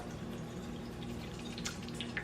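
Rinse water tipped off rice in a pot, held back with a spoon, trickling and dripping steadily at close range with a soft, continuous wash and small splashes, no talking.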